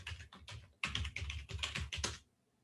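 A password being typed on a computer keyboard: a quick run of close, crisp key clicks in uneven bursts lasting about two seconds, then quiet, with no voices.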